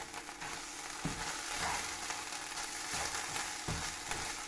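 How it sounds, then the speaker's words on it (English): Rice frying hard in a pan for risotto, a busy continuous sizzle with occasional scraping stirs, moderately close and fairly quiet. "keep hard frying"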